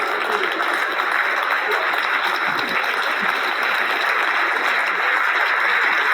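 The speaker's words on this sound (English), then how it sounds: "give her a round of applause" A crowd applauds during a psychology presentation, dense continuous clapping that stays loud and even from start to finish.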